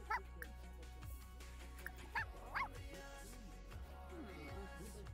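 A dog in The Sims 4 gives a few short yips, barks and whimpers in separate bursts over a quiet game soundtrack.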